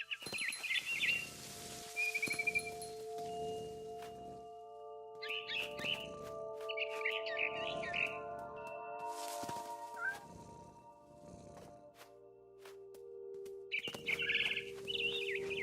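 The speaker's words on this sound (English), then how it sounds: "Then I heard chirping outside my window." A frightened barn swallow in the video game What Remains of Edith Finch chirps in several quick, sharp bursts spread across the scene, heard alone over quiet ambient game tones.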